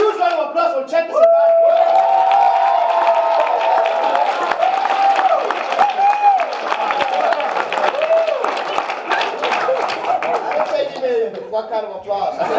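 An audience at a business presentation breaks into loud clapping and cheering, with whoops and shouts rising over sustained applause and a voice speaking through it for about twelve seconds.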